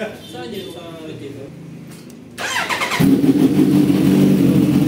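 A 2023 Kawasaki H2 Carbon supercharged motorcycle engine cranks and catches, then settles into a steady, loud idle up close, with a voice speaking beforehand.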